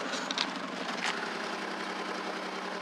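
A Ford Taurus with a blown head gasket idles steadily and close, a low rough engine drone with faint irregular ticking and shake, no talk over it.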